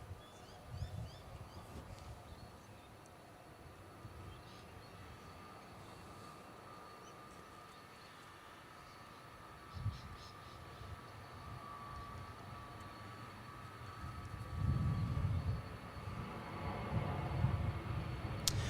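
Jetstar flight 762 passes at Adelaide Airport: a low, distant airliner rumble under steady background noise, swelling louder over the final few seconds.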